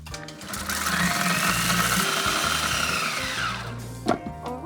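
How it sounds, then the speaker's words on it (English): A kitchen blender blitzes dates and espresso into a smooth paste, a loud continuous whirring motor for about four seconds before it cuts off with a clunk. "Put that in the blender."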